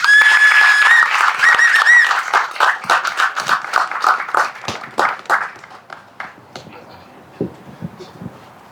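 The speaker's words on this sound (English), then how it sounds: "let's put our hands together and clap again for Avi" An outdoor crowd at a Brampton election rally in Chinguacousy Park applauds and claps for a parliamentary candidate. The clapping is dense and loud, with a whistle near the start, then thins into scattered claps that fade away.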